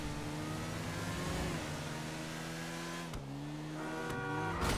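A motorcycle engine in GTA V Online revs steadily with a sustained mid-pitched drone, dipping briefly and then rising again. It is fairly quiet and has no talk over it.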